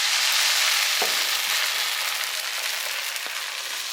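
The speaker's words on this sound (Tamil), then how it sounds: "ஒரு கரண்டி மாவு விடுங்க." Varagu rice appam batter sizzles steadily in a hot appam pan, a loud, continuous close hiss with a few faint scrapes and taps, no talking.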